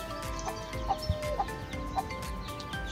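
A farmyard hen with her chicks gives soft, repeated clucks at a moderate distance over a steady low background hum, with a few brighter chirps scattered through.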